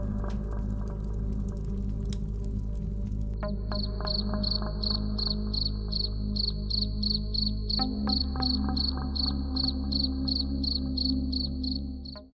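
Crickets chirp at night beside a pond, a dense, evenly pulsing trill that carries on steadily from near and far over a low ambient hum.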